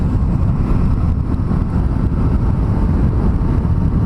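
Motorbike engine being run in below 6,000 rpm on a night street ride, a steady, loud drone mixed with heavy wind rush against the microphone, continuous throughout.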